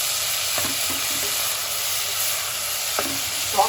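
Carrots and tomatoes sauté in a hot pan for a winter soup, giving a steady close sizzle with a few soft stirring scrapes and a brief sharper clink near the end.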